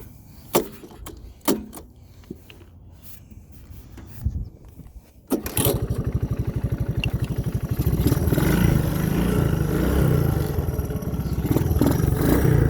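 A 1981 Honda 185s motorcycle engine starts cold after a few quiet clicks and knocks, then settles into a loud, steady, slightly rough idle with a fast rhythmic putter that stays close and constant to the end.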